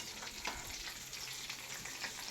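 Steady, quiet sizzling and crackling of an omelette frying in a pan, with faint scraping as it is stirred.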